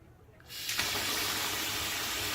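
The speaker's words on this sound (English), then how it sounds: "Cold water." Cold water bursts from a tap after a quiet moment, settling into a steady, close hissing gush that runs on without pause.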